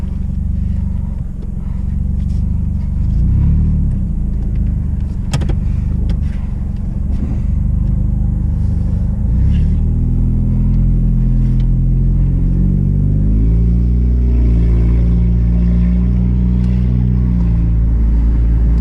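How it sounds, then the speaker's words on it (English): A 2002 Hyundai Elantra with no muffler idles and revs, its open exhaust giving a loud, close, deep rumble that rises in pitch as the engine picks up, with no talk. "if you guys want to know what the exhaust noise is."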